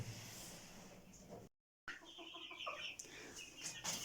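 Young chicks cluck and chirp softly in a coop, with a brief silent gap partway through and faint rustling around them.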